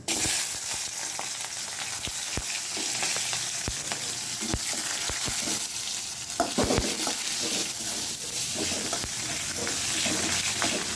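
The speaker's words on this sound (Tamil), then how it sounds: "மறுபடியும் வெங்காயத்தை வந்து நல்லா வதக்க விடுங்க" Onions sizzling and frying in a pan for Chettinad fish curry with mustard seeds, cumin, fenugreek and curry leaves, loud steady crackle broken by repeated scraping stirs of a spoon.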